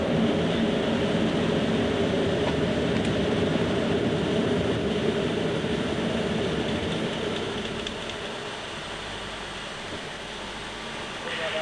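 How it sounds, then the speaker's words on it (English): Airflow roars across the Concorde flight deck as the nose and visor are raised. A steady, dense rush of wind noise fills the cockpit, then drops to a quieter level near the end. "That airflow noise we were getting before has now diminished."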